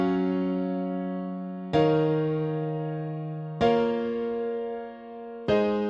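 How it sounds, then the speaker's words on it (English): Piano chords programmed in FL Studio for a progressive house track, with three sustained chords struck about two seconds apart, each ringing and slowly fading, clear and alone. "Your chords should sound like this."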